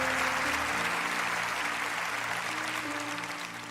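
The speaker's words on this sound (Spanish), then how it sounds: "dale un aplauso al Señor en esto" Church congregation applauding during a sermon, broad sustained clapping from a large gathering with a sustained organ or keyboard tone underneath, tapering slightly at the end.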